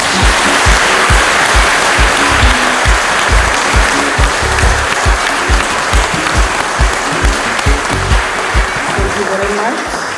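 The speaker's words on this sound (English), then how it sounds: "join me in giving Dr. MUNANG another round of applause" A conference audience gives sustained applause for a speaker on African development and climate change. The clapping is full and continuous, with a rhythmic group beat running through it, loud and close for about ten seconds.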